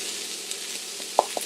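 Garlic with onion in a little olive oil on a hot pan gives a steady, even sizzle, with a couple of sharp pops or utensil taps near the end; no voices.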